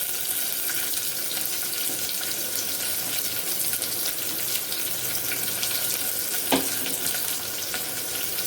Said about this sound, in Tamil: ஸோ இந்த ஸ்டேஜில் நான் ஆல்ரெடி எடுத்து வச்சிருக்க வெங்காயத்தை வந்து சேர்த்துக்கிறேன்.